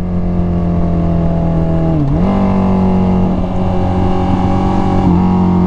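A Honda CBR 650R motorcycle engine drones steadily while riding a winding mountain road on Marilaque, its pitch dipping briefly with a gear shift before holding a smooth, loud, close hum.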